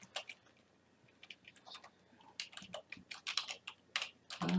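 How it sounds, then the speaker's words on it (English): Fingers typing a website address on a computer keyboard, rapid irregular clicks in short bursts, close and clear with no talking. "So I'll type that website in here."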